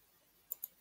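Two quick, sharp mouse clicks close together, brief and fairly faint against a quiet background.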